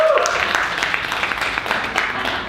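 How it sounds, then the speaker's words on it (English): A round of applause for the host at a motivational event, dense clapping from a crowd that stays steady and moderately loud, with some voices mixed in. "Give him a round of applause"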